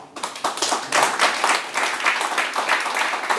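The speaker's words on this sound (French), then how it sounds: "Je voudrais qu'on l'applaudisse, et je voudrais vous applaudir tous d'ailleurs." An audience at a talk on money breaks into applause, a dense, sustained patter of many hands clapping that swells quickly and holds steady, fairly close and loud, with no voices over it.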